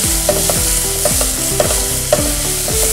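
Vegetables sautéing in a hot pan, loud and close, a continuous sizzle broken by regular scraping strokes of a spoon stirring roughly every half second.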